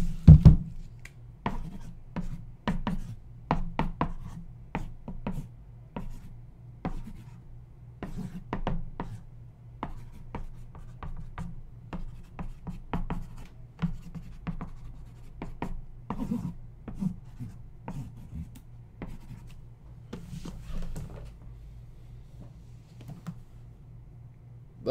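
A pen scratches and taps steadily across a surface while drawing out a football play, a busy run of short strokes close by over a low steady hum.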